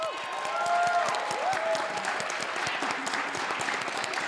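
Audience applause fills a university performance hall at the Krannert Center, dense steady clapping at full volume that holds with slight cheering and crowd noise through the whole stretch.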